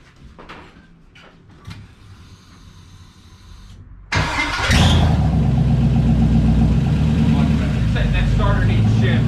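An LS-swapped 1988 Firebird with a vacuum leak cranks with a few clicks and whirs, then fires abruptly into a loud, rough, lumpy idle that keeps running; voices are faintly present.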